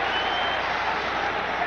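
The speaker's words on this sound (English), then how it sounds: "the crowd reacting as it is announced differently" A basketball arena crowd at a 1997 NBA Eastern Conference Semifinals game, Miami Heat at New York Knicks, roars with dense, sustained cheering and clapping after a foul call, loud and steady throughout.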